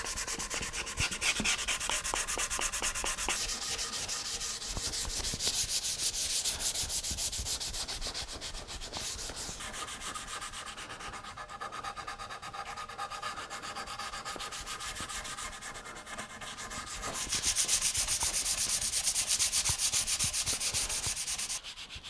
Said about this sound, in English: So I can cheat a little bit and sand against the grain if necessary in some of these hard to reach